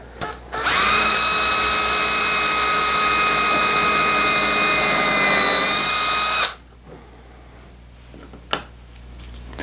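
A power drill, using a small nail as the bit, whines loudly and steadily for several seconds at close range, then stops, leaving quiet room noise and a few faint clicks.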